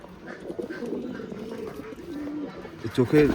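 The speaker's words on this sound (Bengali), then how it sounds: "আর কবুতরটা মানে অসাধারণ একটা কবুতর।" A pigeon from an old bloodline coos in soft repeated throaty rolls close by. Someone talks over the cooing the whole time.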